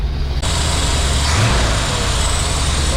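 A carbureted car engine runs steadily at idle, a loud, continuous low rumble close by with no pauses across the whole stretch.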